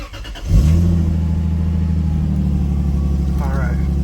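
A 2003 Lexus IS300 engine catches and settles into a steady idle after an oxygen sensor replacement, with a brief rise in revs at the start. The engine hum stays close and continuous, and a person's voice briefly sounds over it.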